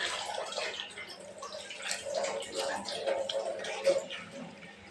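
A freshly picked mango is rinsed under running water, with splashing and dripping heard close by while a voice talks over it.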